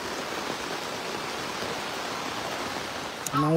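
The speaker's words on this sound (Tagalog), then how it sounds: "Napakalakas ng ulan niya yun." Heavy rain pours down over farm fields, a loud, continuous hiss of falling water. A voice breaks in just at the end.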